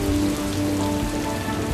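Rain falls steadily in Nantes, a dense continuous patter on surfaces close by, loud and unbroken with no voices.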